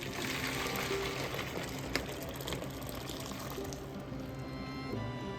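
Boiled water pouring steadily into a container holding a raccoon skull soaked with peroxide, a continuous close splashing gush lasting throughout.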